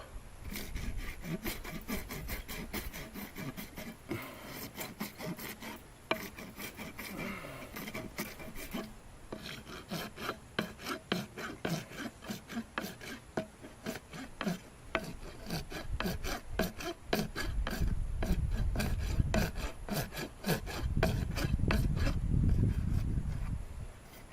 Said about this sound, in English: Got my rasp. Rasp this thing down a little bit.